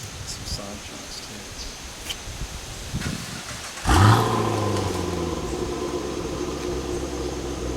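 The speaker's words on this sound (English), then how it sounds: "In case you're wondering, that's a 2016 Chevy SS. LS3." A 2016 Chevy SS with an LS3 V8 fires up nearby, a sudden loud start surging into a deep, rumbling idle that settles and holds steady, following quieter shuffling and faint movement beforehand.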